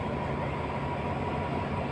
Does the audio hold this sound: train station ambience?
yes